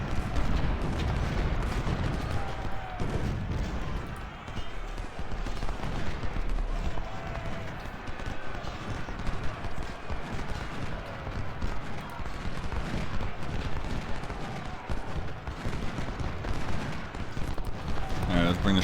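Civil War gunfire and artillery rattle and boom continuously in a battle in the strategy game Ultimate General Civil War, with dense irregular shots at steady loudness.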